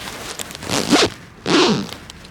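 Bag zipper pulled closed in two quick, raspy strokes, close and clear, separated by a short pause.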